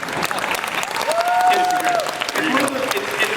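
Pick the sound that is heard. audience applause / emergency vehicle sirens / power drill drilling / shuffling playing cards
audience applause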